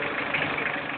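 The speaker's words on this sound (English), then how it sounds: "in a minute or so your engine should change sound" Toyota Corolla diesel engine fitted with an HHO electrolyzer idles steadily, a continuous even rumble with a faint clatter, close by and unaccompanied by talk.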